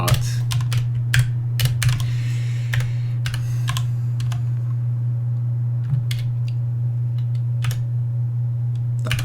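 Fingers tap keys on a compact computer keyboard without a number pad, irregular clusters of clicks over a steady low electrical hum, close to the microphone.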